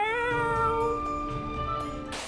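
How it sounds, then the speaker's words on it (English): A cat, likely a neighbor's cat outside, lets out one long drawn-out meow, clear and fairly loud, alone without talk. "I bet the neighbor's cat is outside"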